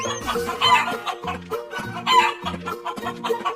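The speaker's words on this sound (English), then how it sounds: "chicken," A chicken clucks and crows in repeated rhythmic bursts, loud and close, with a steady tune running underneath.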